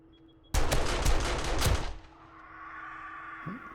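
Defensive turrets fire rapid bursts at vultures in 7 Days to Die, a loud close rattle of shots for about a second and a half, then fading into a low ambient hum.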